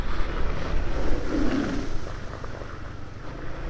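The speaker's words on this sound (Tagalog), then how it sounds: "Grabe, naagos talagang tubig dito" A motorbike rides through water running across a mountain road, with gusty wind buffeting the microphone and a rushing, splashing wash that swells early then eases off.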